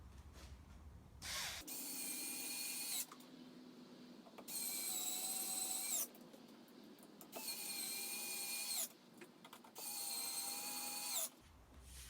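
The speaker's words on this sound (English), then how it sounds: "now we're just going to fasten in the 4 screws for the table itself" Power drill driving four small self-tapping threaded screws to fix a motor mount table in place: four separate whirring bursts of a few seconds each, close and fairly loud, with short pauses and a clatter between them.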